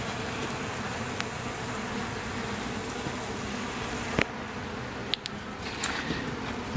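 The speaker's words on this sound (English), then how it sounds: "They're all clustered up to the top. There's quite a few bees in there." A large cluster of honeybees in a cage, removed during a hive cutout, hums in a steady, continuous buzz, with a few faint clicks and taps near the end.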